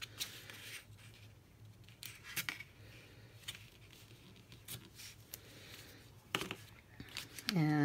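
Scissors make soft, quiet snips through paper while a Christmas money holder is being crafted. The cuts come at irregular intervals against low background noise, with a few louder rustles and crinkles near the end.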